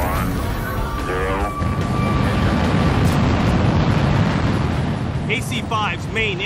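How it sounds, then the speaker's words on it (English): Main engines of an Atlas-Centaur rocket (AC-5) igniting at liftoff: a steady, loud broadband roar that rises and holds for several seconds. Voices are heard faintly underneath it. "AC-5's main engines ignite and the rocket lifts off"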